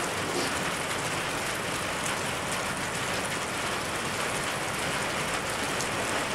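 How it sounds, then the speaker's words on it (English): Heavy rain pours down steadily outdoors, a dense, loud, unbroken hiss of drops striking surfaces, with no voices. "Well, that rain's coming down."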